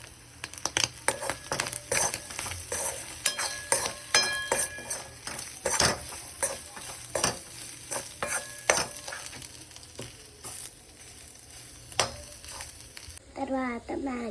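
Egg and chilli powder are stirred in a pan, with scattered spatula scrapes and metallic clicks over a soft sizzle, and a brief chirping sound near the end.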